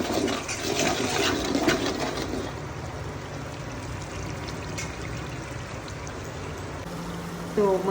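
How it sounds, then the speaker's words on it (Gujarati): Water is poured into spices frying in oil for tadka khichdi, giving a rushing, bubbling hiss that is strongest at first and then eases into a steady simmering sizzle. "રસાળો બળી ના જાય એના માટે થોડું પાણી નાખવાનું"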